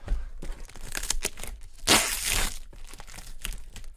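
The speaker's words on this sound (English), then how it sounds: "So let me open this thing up." A large cardboard box being opened, with close crinkling, scraping and tearing sounds and a louder rip near the middle, in uneven bursts with no talk.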